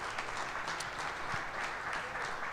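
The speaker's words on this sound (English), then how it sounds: "I think that's worthy of a round of applause for sure." Audience applause at a Green Bay Packers Clubhouse Live event, steady dense clapping throughout at moderate level, slightly distant and sustained without pause.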